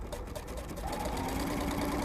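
An embellishing machine punches its needles rapidly and steadily through felt, giving a continuous mechanical whirring chatter at close range with no voices.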